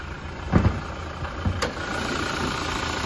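A 2018 Toyota Hilux SR engine idles with the bonnet open, a steady close mechanical hum with a few soft knocks early on, then an even, unbroken drone.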